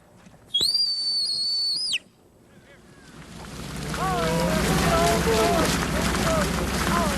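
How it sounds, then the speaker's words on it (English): One long, hard, steady whistle blast given as a command to a whistle-trained herding cowdog, loud and close, followed by strong wind noise and outdoor rumble. "Circling the herd at the directions of his master's whistle, Blaze hits a barbed wire fence"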